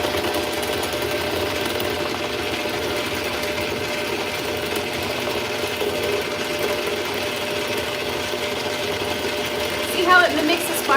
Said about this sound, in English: So the bowl rotates, and while it's rotating, these two dough hooks are doing their thing